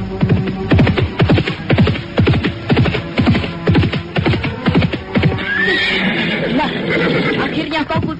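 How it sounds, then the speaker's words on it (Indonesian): A horse galloping fast: quick, regular hoofbeats pound close by, then give way to a loud whinny near the end. "Siapa yang berkuda seperti dikejar setan itu?"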